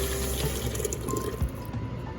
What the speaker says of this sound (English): we're gonna dump in our chicken bouillon water.